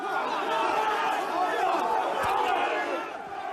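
A crowd of protesters outside Parliament surging past a police line, a dense roar of shouting and yelling voices, loud and close throughout.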